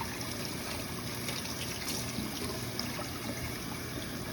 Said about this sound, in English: I'm just going to give it a good rinse